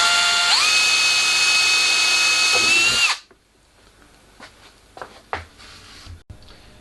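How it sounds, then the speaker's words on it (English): A power drill boring a 2mm filament hole in a plastic filament cassette runs loud and steady for three seconds, pitch rising as it bites, then stops, followed by quiet clicks and handling noises. "the last step is to drill out the 2mm hole for the filament."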